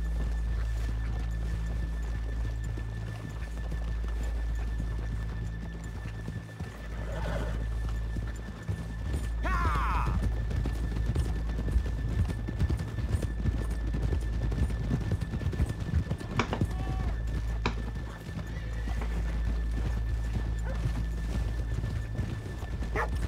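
Horses in the video game Red Dead Redemption 2 move with steady clip-clopping hooves and give a couple of whinnies in the middle. The hoofbeats carry over a low, droning in-game ambience.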